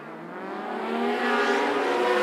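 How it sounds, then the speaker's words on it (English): Racing motorcycles at a Chuckwalla Valley Raceway event rev and accelerate off the start line, a loud, dense engine roar rising in pitch and volume as the pack pulls away. "Helmets down. Revs up."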